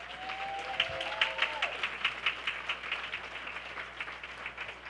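Applause from a conference audience for a city council president, steady and moderately distant, with a faint whistle-like tone sliding through early on.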